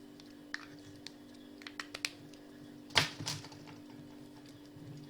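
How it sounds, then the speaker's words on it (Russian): A pen draws a small cross on a slip of paper: two quick, close scratchy strokes after a few light, sparse taps and clicks. The setting is a quiet room with a low steady hum. "И на бумажке себе рисую"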